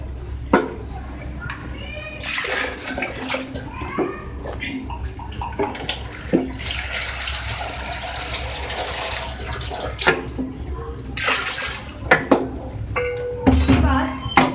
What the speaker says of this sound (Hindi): देखिए मैं थोड़ा सा इसमें पानी भी ऐड कर रही हूँ